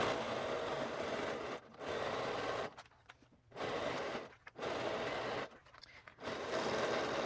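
A sewing machine stitches around the pocket of a dress in several steady runs of about a second each, separated by short pauses, close and fairly quiet with no talk.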